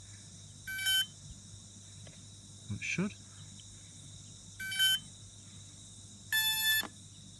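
A drone's arming switch sends out short, high electronic beeps, three separate bursts spaced a couple of seconds apart over a quiet outdoor hum, with one brief spoken remark in the middle.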